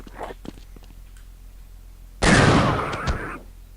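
A video game shotgun in a custom Half-Life map fires one loud, booming, explosion-like blast partway through that rings out for about a second, after faint clicks and quiet shuffling beforehand.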